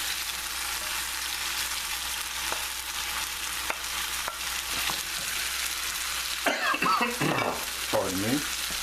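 Scallops and shrimp sizzle steadily in a hot pan, a loud, close, continuous hiss broken by a few light knocks of a utensil, with brief talk near the end.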